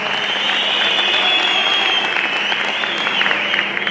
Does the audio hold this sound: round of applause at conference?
yes